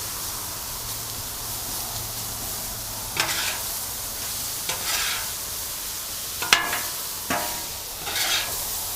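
Chopped onions sizzle on a flat griddle for Oklahoma-style smash burgers, a loud continuous frying hiss broken by several scraping spatula strokes, with no one talking.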